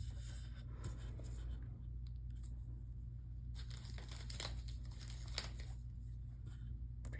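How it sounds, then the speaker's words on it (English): Tape is pressed and rubbed firmly onto a wooden board, giving soft irregular crinkling and scraping bursts over a steady low hum. "making sure the tape is completely stuck to the wood"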